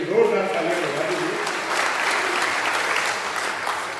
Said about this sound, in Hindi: आप अनुमोदन की जोरदार तालियां बजा दीजिए